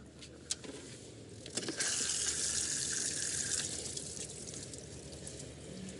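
Water gushes out of a heating system pipe during a stove repair, starting after a few metallic clicks and then rushing steadily nearby, loud and continuous before easing slightly.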